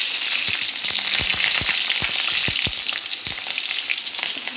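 Onions fry in a pan with a constant bright sizzle, punctuated by a series of soft knocks and scrapes from stirring, close and fairly loud with no talking.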